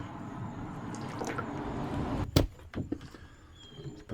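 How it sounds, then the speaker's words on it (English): Hose water splashes and trickles over Bermuda grass seeds in a bag during a pre-germination rinse, a soft steady wash with a sharper gush and a few drips near the middle. "I'm going to hose the top of the bag here so we can get the seeds to go down to the bottom"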